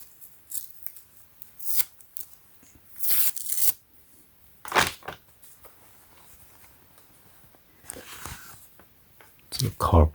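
Taped cardboard package for boxer briefs being opened, with bursts of scraping, cutting and tearing scattered across the clip and quieter handling between them, close by.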